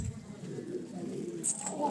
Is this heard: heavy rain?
no